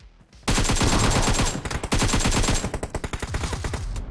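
Gunfire in the mobile battle-royale game PUBG Mobile: after a brief quiet start, a dense, loud burst of rapid automatic shots, then a rhythmic string of distinct close bangs continuing to the end, no talking.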